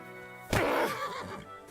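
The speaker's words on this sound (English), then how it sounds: "That's my horse. That grey horse you have grazing." A grey horse in Kingdom Come Deliverance II neighs once, a loud, close whinny that breaks in suddenly and trails off over about a second against quiet game ambience.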